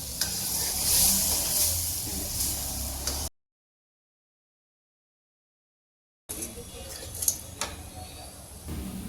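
Dal hits a hot pan and sizzles in a bright, steady frying hiss with stirring scrapes, cut by a stretch of total silence before the sizzle returns, close up.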